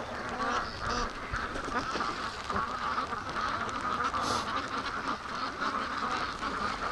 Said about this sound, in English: All right, ducks.